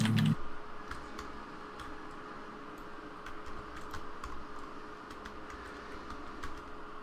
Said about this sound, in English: It's an old keyboard, but it's a great old keyboard from Logitech. It was the G15.